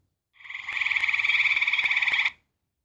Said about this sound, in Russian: квакша